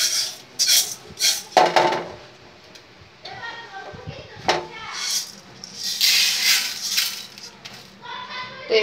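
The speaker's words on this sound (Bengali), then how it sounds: "চালগুলো আমি এখন ঢেলে নিব।" Fried rice grains pour out of a pan in a home kitchen, giving bright rattling, scraping bursts of grains and utensil against metal. The bursts are loudest around the middle and near the end, with quiet gaps between them.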